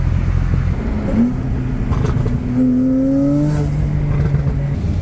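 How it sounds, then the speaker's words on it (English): A turbocharged car pulls away under acceleration, its loud, close engine roar topped by a rising whine as the turbo spools up over a few seconds. "He said he wanted to hear the turbo, so I told him I'll take off a little bit so he can hear it."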